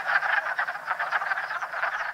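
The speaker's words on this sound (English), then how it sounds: "I could hear the wood frogs in this pool from way down the trail" Hundreds of wood frogs in a breeding frenzy at a woodland pool make a dense, continuous chorus of rapid duck-like clucking croaks, loud and near, with no voices.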